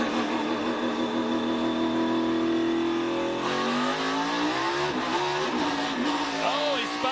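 A NASCAR Xfinity race car at Richmond spins its tires coming off the line, the engine note rising and wavering through a long rev sweep, loud over crowd and track noise with a commentator talking.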